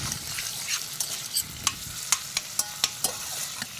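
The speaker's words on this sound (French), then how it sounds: "on fait tout revenir ensemble" Ingredients sauté together in a hot pan under a constant sizzle, with sharp spatula scrapes and clacks at irregular intervals, close and clear, with no talking.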